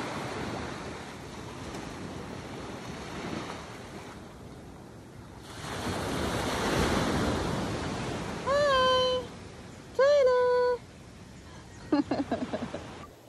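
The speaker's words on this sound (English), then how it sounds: "Ayan ang beach. High tide po ngayon." Ocean waves wash onto La Jolla beach at high tide, a broad steady surf roar with wind rumble, overlaid late by several short high mewing or bird-like cries.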